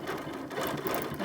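A sewing machine runs in steady, rapid stitching bursts during free motion quilting with Martelli gripper rings, its close mechanical whir pausing briefly midway before resuming, with no talking.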